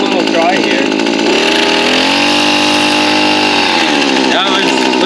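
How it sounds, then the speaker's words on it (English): A Maruyama MM24 string trimmer runs loud and close as it cuts a small patch of grass, its high engine whine holding steady with brief pitch changes as the load shifts. "we just have a small piece of patch of grass here, and we'll see how it trims"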